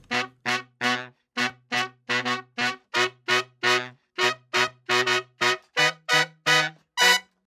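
A vintage-style mix of a song with Pultec EQ on the bus: a steady run of short, punchy tonal stabs, about eighteen evenly spaced hits, loud and dry, with no talking.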